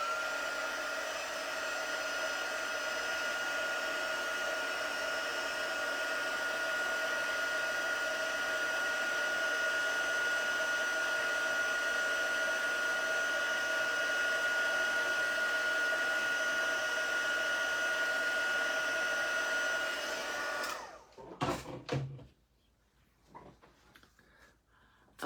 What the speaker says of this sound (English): So I'm going to have my heat gun, and I put it over here by me this time